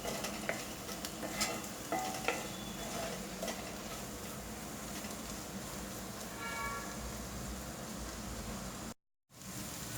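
Vegetable sabzi fries in a pan, a continuous soft sizzle with scraping stirring strokes throughout, briefly cutting out near the end.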